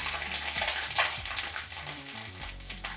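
A steady, close sizzle of bread frying in a hot pan for grilled cheese sandwiches, with light clinks of utensils scraping and tapping the pan.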